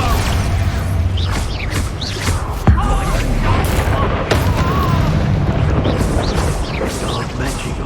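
Spell blasts from Hogwarts Legacy combat, a loud booming burst near 2.7 s over a dense, continuous wash of magical effects and game noise, with voiced lines mixed in.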